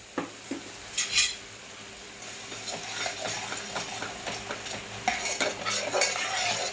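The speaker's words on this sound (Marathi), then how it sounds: "सगळं टाकायचं व्यवस्थित हे मिक्स करायचं" Malvani pomfret curry is stirred and mixed in a pan, with repeated close scraping and metal spoon clinks over a soft sizzle, busier toward the end.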